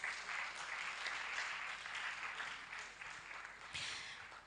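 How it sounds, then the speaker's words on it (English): Audience applause fills an awards ceremony hall at a university research awards and grants event, a steady dense clapping that holds for several seconds, swelling briefly near the end before tapering off. "Let's welcome her with a round of applause."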